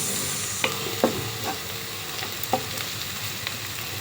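Ingredients for spaghetti bolognese browning in a pan, a constant close sizzle broken by several sharp scrapes and clicks of a utensil stirring, with no talk.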